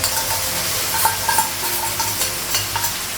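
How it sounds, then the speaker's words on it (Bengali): Fried onion and a spice paste of white paste, cumin, coriander and turmeric powder mixed with water sizzle in a pan. A spoon stirs close up with light scraping clinks over the steady frying hiss. "পেঁয়াজটা ভাজা হয়ে গেছে, মশলাটা লাগাবো।"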